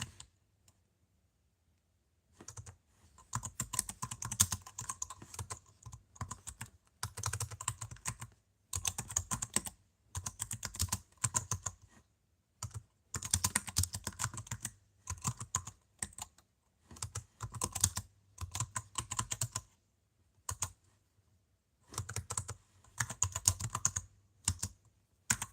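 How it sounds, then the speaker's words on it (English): Computer keyboard typing in steady bursts of rapid clicking keystrokes separated by short pauses, close and clear with no voices. "I'm thinking and typing."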